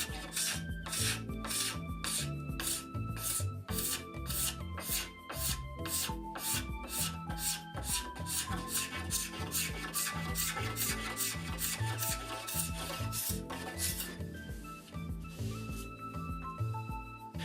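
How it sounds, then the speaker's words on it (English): A hand scraper works rapidly back and forth across the back of a bamboo longbow, stripping the pithy layer in an even, rhythmic rasp of close, quick strokes that carries on for the whole stretch, with no talk. "I'm going to use the scraper and get rid of that remainder, so we get an even coating on the back of the bamboo"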